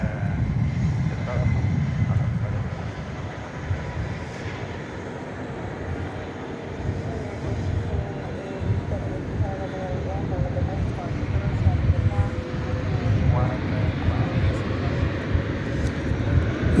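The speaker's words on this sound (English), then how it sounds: "the big A350 1000 is now making its turn onto 18 left for takeoff to Doha" Airbus A350-1000 jet turning onto runway 18 left at DFW Airport for takeoff, a steady low engine rumble holding at even loudness throughout with voices talking over it.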